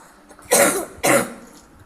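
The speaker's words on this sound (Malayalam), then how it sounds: "ഇത് ചെറിയ ചുമയൊക്കെ ഉണ്ട്." Two harsh, loud coughs from a person, close to the microphone, spaced about half a second apart with quiet between them.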